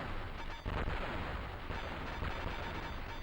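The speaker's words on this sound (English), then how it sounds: "Listen to those explosions. They're absolutely crisp and wonderful." Dense, continuous explosions and rapid gunfire from an Amiga A500 video game rumble loudly and without pause, a crisp, crackling barrage of blasts filling the whole stretch with no voices.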